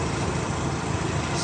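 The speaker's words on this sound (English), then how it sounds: "here's a video of the engine running." A 1.3 liter rotary engine with a Canon filter and blue coil wire idles steadily, a continuous low rumble that stays even and fairly loud throughout with no talking.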